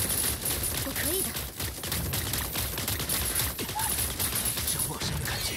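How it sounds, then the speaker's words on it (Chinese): Rapid bursts of gunfire crackle through a mobile shooter game in a team match, dense and continuous with a person talking over it. "我好像听到了枪声。"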